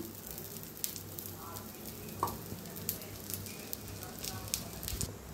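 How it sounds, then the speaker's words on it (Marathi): Dosa batter fries on an oiled pan, a steady close sizzle and crackle with faint scattered pops and a few soft ticks, fairly quiet throughout, with no one speaking. "आता मस्त अशी खालनं भाजायला आली आपली दाशी."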